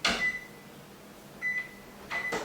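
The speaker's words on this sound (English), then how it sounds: "Let's set our timer." An oven timer is being set in a home kitchen: three short, thin electronic beeps sound near and fairly quiet, spaced about half a second or more apart, over light background noise.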